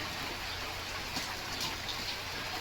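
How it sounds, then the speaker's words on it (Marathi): Steady rain falling outdoors, a continuous even hiss with faint scattered drop patters, moderately distant and unaccompanied by talk. "पाऊस पडतोय"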